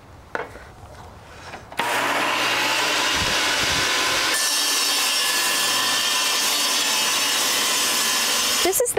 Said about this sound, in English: For our straight cuts, we're going to be using a table saw.